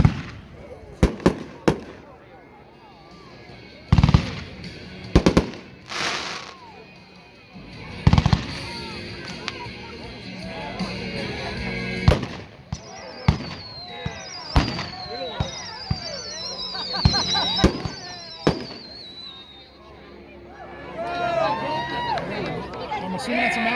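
World Class Heavy Artillery multi-effect firework cake at a 2019 fireworks demo in Aiken, South Carolina, firing a series of sharp loud bangs and thumps, then whistling and crackling effects, while a crowd chatters and cheers throughout.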